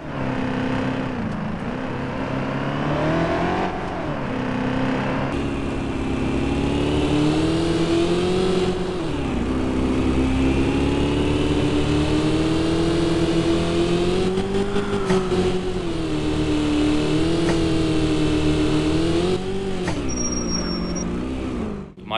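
A Ford Crown Victoria taxi engine in the driving game Taxi Sim 2020 revs and drones continuously, pitch rising and falling through repeated accelerations and gear shifts, loud and close with no talking.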